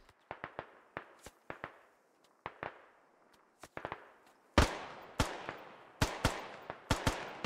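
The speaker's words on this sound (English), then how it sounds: "as everyone else starts firing" Gunfire in the video game Squad: scattered sharp gunshots crack in irregular bursts, sparse and moderate at first, then louder and denser with heavy close shots from about halfway through.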